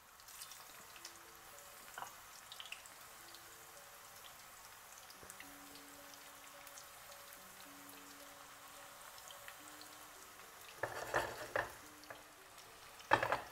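Eggplant pieces frying in hot deep-frying oil over high heat, a soft continuous crackling sizzle with scattered pops, rising into a louder burst of spattering and stirring near the end.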